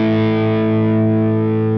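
Electric guitar through the Line 6 Helix Moon amp model on its Bright drive, set to 5, holds a single thick, distorted chord that sustains evenly, loud and without talk.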